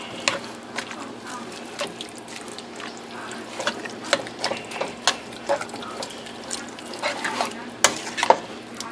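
A pot of chili ingredients with onions being stirred, giving scraping, clinking utensil sounds in an irregular rhythm at close range, with soft sizzling or liquid noise underneath and no talking.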